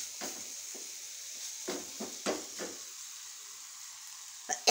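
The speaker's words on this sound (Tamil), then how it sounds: "வாழைக்காய்க்கு தண்ணி ஊற்றாமல் அப்படி எண்ணெயிலேயே வச்சு ஃப்ரை பண்ணுங்கள்." Raw plantain frying in oil in a home kitchen gives a soft, steady sizzle, broken by several sharp stirring scrapes and clinks of a utensil against the pan.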